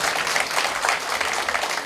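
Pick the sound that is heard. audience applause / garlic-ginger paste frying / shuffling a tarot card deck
audience applause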